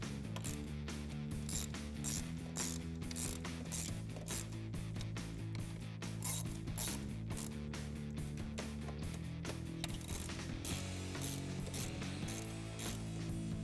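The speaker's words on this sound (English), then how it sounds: "And then we can tighten those down with our 10mm socket." A ratchet with a 10mm socket tightens bolts while fitting a cold air intake on a 2016-2023 Camaro SS, rapid quiet clicking in repeated runs beneath steady background music.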